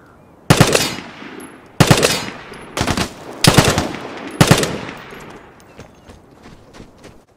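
Five loud, close bursts of M2 carbine fire in the video game Vigor, each a sharp crack with a ringing tail, spaced about a second apart and then fading into quiet ambience.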